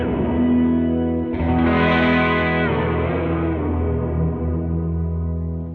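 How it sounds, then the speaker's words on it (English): A limited-run Death by Audio guitar effects pedal adds heavy reverb with its warp range rising steadily. A sustained, distorted guitar tone shimmers and shifts in pitch, loud and continuous, with no voices over it. "Let's hear the reverb with the warp range swiftly but steadily"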